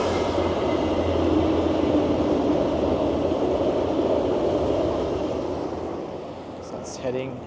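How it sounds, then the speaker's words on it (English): A Via passenger train runs along a downtown Toronto rail corridor toward Union Station, a steady low rumble and rolling wheel noise that fades slightly as it moves off. "there's a train right there. That's a Via train."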